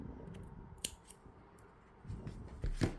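Scissors snip through crochet yarn in a few quick, quiet close-up cuts, with soft handling noise between the snips.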